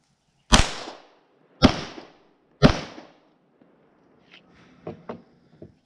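Three subsonic 9mm rounds go off about a second apart, each a sharp, close report with a short decaying tail, followed by a few faint clicks and light handling sounds.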